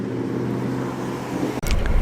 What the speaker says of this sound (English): that makes a bit of a burble, the RS4 Audi